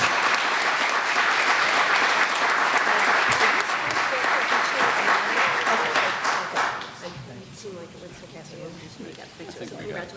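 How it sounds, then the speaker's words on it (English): Loud, dense applause from an audience at a mayor's arts awards ceremony, steady for several seconds and then thinning to lighter, scattered clapping. "we should applaud more. Applause is good. Let's applaud more."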